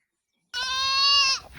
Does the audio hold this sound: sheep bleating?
yes